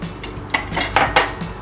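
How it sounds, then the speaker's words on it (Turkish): Egg and milk are whisked together for pancake batter, and the whisk clinks rhythmically against the bowl. Several quick, bright metallic taps ring close by, with no voices. "Önce sıvı olan malzemeleri karıştırıyorum."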